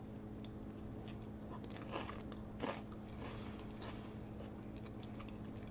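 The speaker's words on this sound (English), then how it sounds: "you'll get a good crunch out of this because I got a little bit of cucumber" Someone quietly crunches a mouthful of pasta salad with cucumber, giving soft, close chewing with a couple of slightly louder crisp bites amid low background hum. No one talks.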